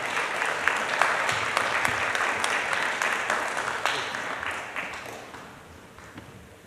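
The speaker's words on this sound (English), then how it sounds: "Let's give them a round of applause for all the work that they do." Applause for a Psi Upsilon fraternity chapter fills a Lawton, Oklahoma city council chamber, dense and steady clapping from a crowd that holds for several seconds, then gradually thins and fades toward the end.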